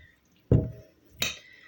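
A spoon scrapes and knocks twice inside a pot of Ukrainian goulash, a low clattering stir followed by a brighter metallic clink, close and isolated.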